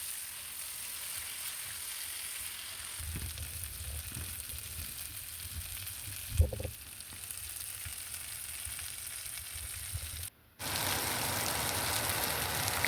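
Chicken drumsticks fry in thick masala in a pan, a steady close sizzle with a few stirring knocks and scrapes and a brief break near the end.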